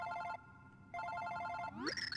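A phone rings in Super Paper Mario with a trilling electronic bell, two bursts separated by a pause and then a rising chirp, close and fairly quiet.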